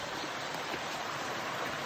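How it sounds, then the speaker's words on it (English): A small river creek flows at a trail crossing on a rainy hiking day in the desert section between Idyllwild and Big Bear Lake, a steady broadband rush of water heard close and unbroken throughout. "looks like this is going to be our 5th little river creek crossing that we've had to do today"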